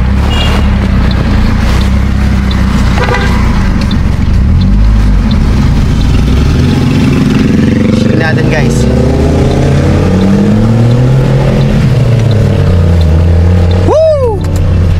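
Car with a Greddy chambered muffler exhaust revving loudly up close, engine note rising and falling through several pulls, with someone talking over it and a brief word near the end.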